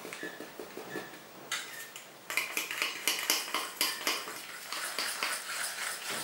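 A whisk or spoon beats a batter of water and corn flour in a bowl: quick, steady clinking and scraping strokes against the bowl, close and crisp, speeding up and getting louder partway through.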